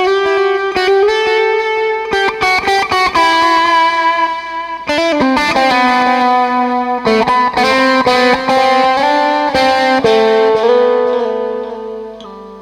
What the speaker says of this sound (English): This one's actually both. It's reverb and delay.